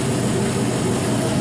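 A 5.3 LS V8 engine with about 100,000 miles, run as a turn-key package, holds a loud, steady low rumble with no break. The sound is close up and has no talk over it.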